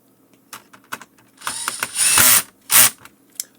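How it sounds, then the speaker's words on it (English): A cordless drill/driver with its clutch set low drives screws during a motherboard replacement on a Clear-Com HelixNet intercom. A few short whirs lead into two loud bursts of ratcheting clutch chatter close up, with brief quiet gaps and no talking. "My clutch is number 2. I can use number 3, but no more than 3, because then I'll over tight the screws."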